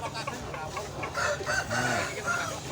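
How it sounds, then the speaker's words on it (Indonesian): Bangkok roosters crow among clucking fowl at a market, a mid-distance crow standing out over a steady crowd hubbub of poultry and bustle. "ini kebanyakan ayam-ayam jantan, ini ayam-ayam Bangkok."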